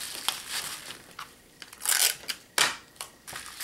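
Adhesive tape is pulled and pressed onto a rolled package of fertile hatching eggs for shipping, giving close, irregular crinkling rips and crackles with short pauses between.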